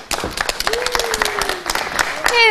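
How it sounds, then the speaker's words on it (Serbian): Studio audience applause on a Serbian TV magazine show, a burst of many hands clapping that builds and holds for a couple of seconds, with a host's voice and a brief sung note over it. "Može jedan aplauz ovdje u studiju."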